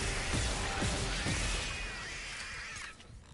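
An object smashed in the Dead Space Remake video game, with a loud, dense crashing burst of breaking debris and a few sharp impacts, fading into a quieter electronic tail.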